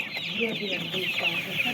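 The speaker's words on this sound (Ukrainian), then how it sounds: "мені кажеться, що це наче петух чи це курка" Chickens cluck nearby in short, repeated calls over a steady farmyard background, with a faint voice murmuring now and then.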